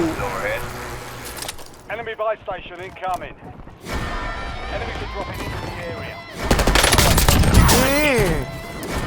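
In Call of Duty Warzone, paintball guns fire in rapid bursts, with dense volleys growing loud toward the end, while someone talks excitedly over the game action.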